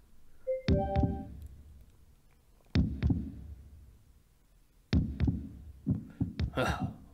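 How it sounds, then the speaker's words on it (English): A heartbeat sound effect in Tokyo Afterschool Summoners beats in deep double thumps, a pair repeating every couple of seconds, heavy and close, with a faint tone and other effects around them. "That seems like a heartbeat."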